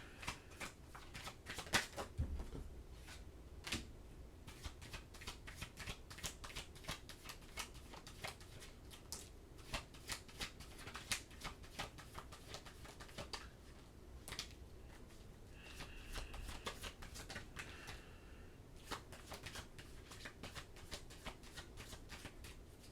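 Tarot cards being shuffled by hand, crisp riffling and flicking bursts that repeat steadily at close range with no voice over them.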